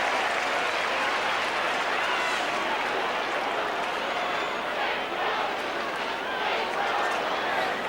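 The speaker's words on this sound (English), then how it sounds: "the big crowd here at Princes Park have certainly come to life" A big football crowd cheers and applauds at Princes Park during a 1987 VFL match between Carlton and Fitzroy, a dense, steady roar that swells and holds throughout the clip.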